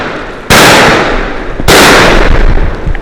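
Two loud gunshots ring out close by, about a second apart, during a rainy turkey hunt in Mississippi. Each blast leaves a long fading tail and no voices are heard.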